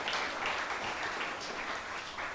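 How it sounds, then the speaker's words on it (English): An audience applauds a performer on a late-night show, producing a steady, dense wash of clapping that stays fairly soft and even throughout. "I want to give him a round of applause."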